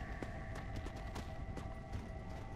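Galloping hoofbeats from a horse in the Undead Nightmare video game thud quickly and faintly under a dense, steady background of game noise.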